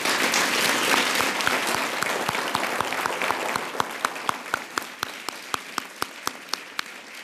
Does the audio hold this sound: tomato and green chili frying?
no